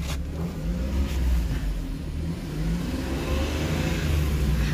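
A used 2017 Suzuki Alto at a Tinsukia second-hand car lot revs its small engine, a close, continuous rising and falling engine rumble with no talk.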